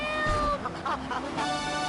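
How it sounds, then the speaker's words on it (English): A cat meows several times in a drawn-out, wavering way over a busy music bed in a Pogo the Monkey ad in the video game GTA III. "Rescue a cat out of that tree with your banana cannon, Pogo."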